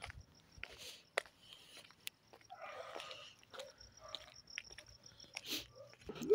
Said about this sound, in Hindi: कुत्तों की आवाज़ें ये सामने हैं